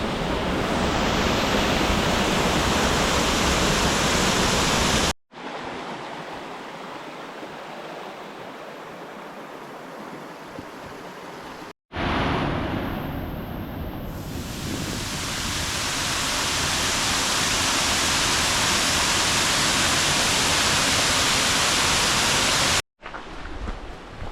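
Loud, steady rush of the lower Blue Waterfall near Sliven, Bulgaria roaring close by, broadband and continuous with a couple of brief cuts.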